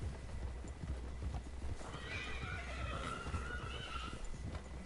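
Horse hooves clip-clop steadily in Red Dead Redemption 2, a quick rhythmic trot under a faint whinny and soft ambient background, with no talk.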